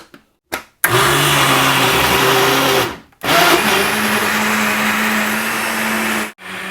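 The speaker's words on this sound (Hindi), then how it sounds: "सारी चीज़ों को अच्छी तरह ब्लेंड कर लेंगे" An electric blender whirs steadily, blending strawberries, sugar and yogurt for lassi; after a couple of short starts it runs in two loud sustained bursts separated by a brief pause, each ending abruptly.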